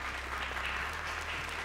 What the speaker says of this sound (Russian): аплодисменты обеим командам